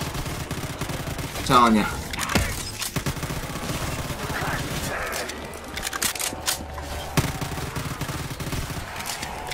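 Rapid gunfire from a wall-buy gun in Call of Duty Zombies bursts out loud early on, then continues as scattered shots and game effects under someone talking.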